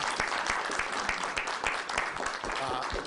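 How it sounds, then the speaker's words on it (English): Chicago City Council chamber audience claps for the mayor after his first meeting, moderately loud applause with distinct individual hand claps and some voices talking underneath. "I think we owe him a round of applause."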